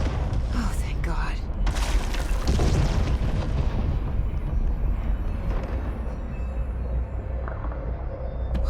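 Flashbang grenades in the action video game Control going off as a few booming bursts near the start, followed by rumbling game ambience, with a person talking over it.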